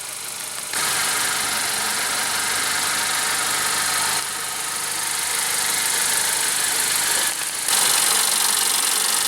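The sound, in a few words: 2015 Honda CR-V 2.4 liter 4-cylinder engine idling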